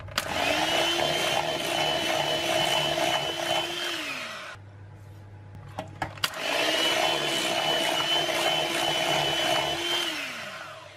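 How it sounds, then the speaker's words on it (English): A steady electric mixer or blender whirs while sweetener is whisked into ricotta for a low-carb dessert, running loud and continuous, stopping briefly with a few clicks, then starting up again at the same pitch. "So just whisk in 1 tablespoon at a time."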